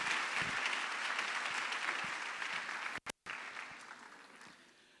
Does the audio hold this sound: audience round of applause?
yes